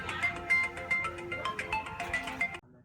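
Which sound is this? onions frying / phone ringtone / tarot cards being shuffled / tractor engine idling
phone ringtone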